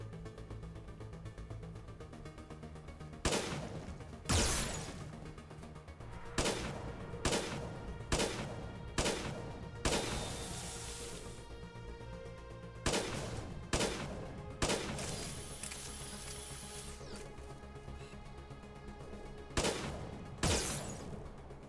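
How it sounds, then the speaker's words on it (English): The Mantis sniper rifle from a Halo game mod fires a series of sharp, booming single shots, spaced a second or more apart, each with a ringing decay and no voices. "Next, the Mantis sniper rifle."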